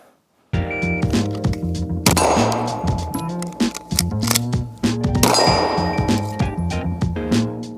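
Repeated sharp metallic pistol shots from a PSA Dagger handgun fitted with a weapon light, firing a quick string of loud cracks with ringing clinks between them, a short pause near the middle, then another rapid burst.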